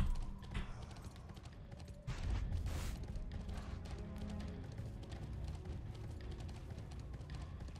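Horse galloping in the video game Bless Online: rapid, even hoofbeats drum steadily along with background game effects, moderately quiet and continuous.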